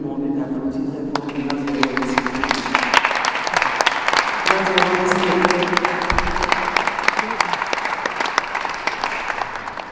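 A church congregation claps loudly during a thanksgiving service, sharp individual claps building into thick, sustained applause over chanting and cheering voices, with some voices singing or calling out near the start.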